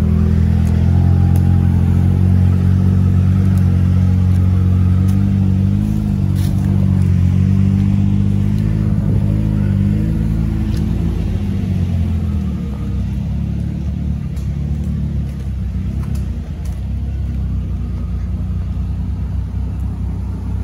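A UAZ or Niva off-road car drives through a forest, its engine a loud, continuous low rumble that swells and eases with throttle as it crawls over rough ground, with no voices.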